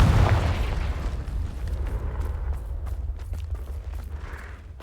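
The Confringo blasting spell from Hogwarts Legacy sets off a loud, deep explosion that booms at once and then rumbles and crackles as it slowly fades over several seconds.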